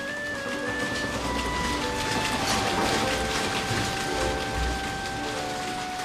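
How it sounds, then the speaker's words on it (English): Textile mill machinery runs in a Lowell cotton mill, a dense, steady, loud mechanical clatter with faint whirring tones that never lets up, with no voices. "The noise of the machinery made some workers deaf"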